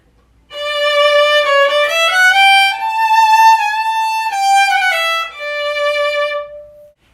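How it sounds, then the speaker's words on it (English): Acoustic violin played without a mute rings out alone for about six seconds of slow, sustained bowed notes that step up and back down in pitch, bright and close with rich overtones. "So this is the sound of the violin without the mute."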